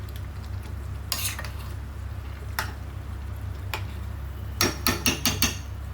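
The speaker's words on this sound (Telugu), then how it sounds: "ఒకసారి కదుపుకుందాం ఇప్పుడే వేసాం కాబట్టి ఏమి ఎరగదు బాగానే ఉంటుంది" Krishna river fish curry is stirred in a pan with sparse, sharp clicks of a spoon against metal over a low bubbling background, ending in a quick run of four or five louder scrapes and taps.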